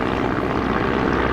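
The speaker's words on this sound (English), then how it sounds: "This is a really interesting aeroplane." A Stampe biplane flying at an air show gives a steady, continuous propeller-engine drone, broadband and fairly loud, with no pauses and no talk.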